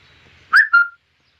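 A cucak lilin songbird gives a short, clear two-note whistled phrase, close and alone against silence, after a faint trilling start.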